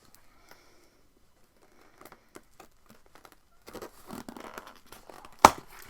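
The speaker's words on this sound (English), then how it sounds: "I cannot get through this tape" Packing tape on a parcel being picked at and torn, with quiet scratching at first and then louder ripping and rustling that builds to one sharp tear near the end.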